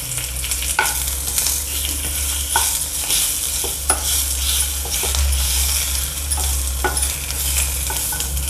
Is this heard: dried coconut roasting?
yes